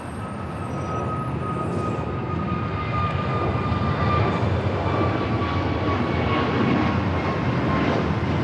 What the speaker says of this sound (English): Turkish making its way here to the south side, about to make a left-hand turn onto taxiway Bravo.